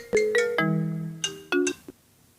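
A phone ringtone chimes for an incoming call on a live stream, a short melodic sequence of bright electronic tones in two bursts, loud and close with no talking over it.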